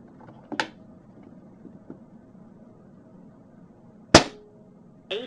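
An FX air rifle with its hammer spring backed off fires through a barrel-mounted radar chronograph: one loud, sharp crack stands out among a few softer mechanical clicks in a quiet room.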